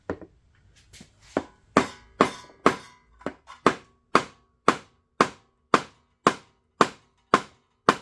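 Hammer pounding on a part of a 21 HP Briggs & Stratton engine, about a dozen sharp, loud, close blows falling in a steady, even rhythm after a few lighter taps, with no voices.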